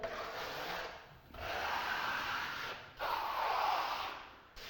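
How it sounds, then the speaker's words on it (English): Steel trowel rubbing a limestone-textured wall finish open, three long scraping strokes with brief pauses between them, close and fairly soft, with no voices. "So you hear that noise, the trowel noise?"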